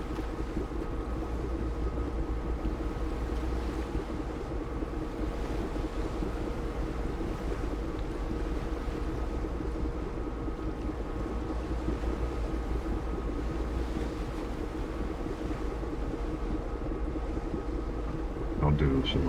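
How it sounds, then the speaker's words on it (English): Ship engines run at throttle in the video game The Last Caretaker, a steady low rumbling drone with wind and water noise that continues unbroken throughout. "I think I need to hit the throttle for a couple seconds."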